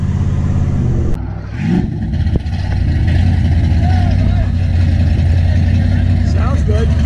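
A pickup truck's engine rumbles steadily at a hot rod show, low and loud throughout with slight swells in revs, while people talk nearby.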